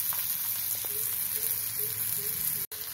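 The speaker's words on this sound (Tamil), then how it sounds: "வெங்காயம் 1 நிமிஷம் வதங்கட்டும்." Onion sautés in a pan with mustard seeds, a soft, steady sizzle with faint intermittent crackles, close but quiet, cut off briefly near the end.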